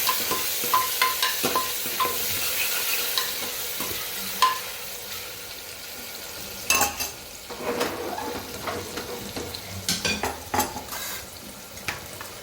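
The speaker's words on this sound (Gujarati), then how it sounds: "લસણ અને લીલા મરચાં. સરસ બધું મિક્સ કરી લઈએ." Garlic and green chilies stirred with tomatoes and onion in hot oil in a pan, a steady soft sizzle broken by repeated scraping strokes of a spatula, some sharp clinks against the metal near the end.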